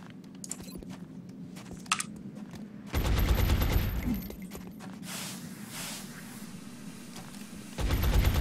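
In an XCOM battle against aliens, bursts of suppressing gunfire erupt as a dense, rumbling fusillade after a quieter stretch, then return briefly at the end.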